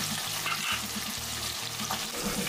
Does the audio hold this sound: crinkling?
no